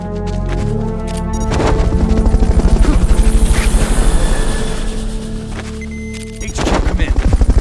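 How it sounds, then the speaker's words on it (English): In a video game, a helicopter's loud rhythmic rotor chop thunders close by while bursts of rapid gunfire crackle over it, with game voices speaking at times. "Fulton recovery subject confirmed onboard helicopter."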